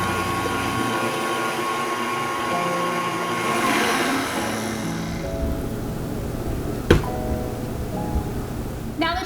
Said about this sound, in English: beat this with an electric mixer until well combined